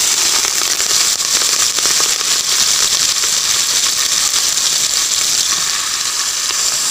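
Onions and green chili frying in hot oil in a pan for a dal recipe, a loud continuous sizzle with dense crackling spits and pops held steady throughout, no voices.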